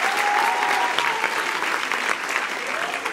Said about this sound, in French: on peut applaudir David également.